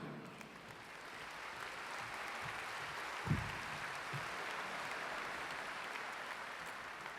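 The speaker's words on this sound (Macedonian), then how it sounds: "благодарам за овој скромен, но за мене многу важен и значаен аплауз" Applause from a comedy-show audience after a comedian is introduced at an awards event: a steady, moderately distant wash of clapping with no talk over it.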